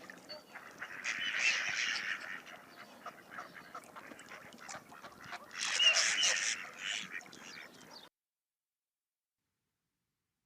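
Mallard duck calling in two noisy bursts of quacking, the second louder, with a steady background wash between them, then abrupt silence.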